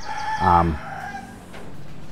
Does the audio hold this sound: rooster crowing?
yes